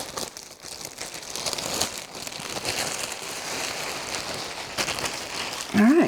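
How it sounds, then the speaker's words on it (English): Tissue paper crinkles and rustles steadily while clothes and a dress are unpacked from a fashion haul, close and fairly quiet, with a brief voice near the end. "Tissue paper. Sorry about the noise."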